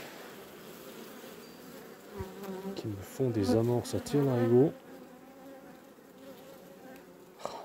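Swarm of honeybees from a recent colony buzzing around the hive, a steady droning hum with a louder, closer surge of buzzing midway, while someone speaks French over it.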